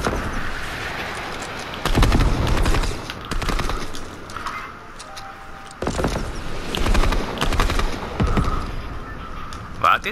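Bursts of gunfire in the video game Fortnite, two loud clusters of rapid shots separated by quieter stretches, heard under ongoing game noise with players talking.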